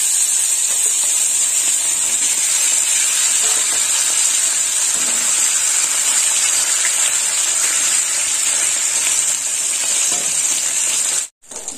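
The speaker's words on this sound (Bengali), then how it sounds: "বাকি মাছগুলো ভেজে নেবো।" The remaining bata fish frying in hot oil, a loud, constant, close sizzle with a bright hiss and faint crackles, running steadily before stopping suddenly near the end.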